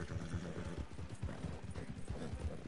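Horse hooves galloping at full speed in Red Dead Online, a steady, rapid clip-clop rhythm of dull thuds that runs throughout at moderate loudness with no talk over it.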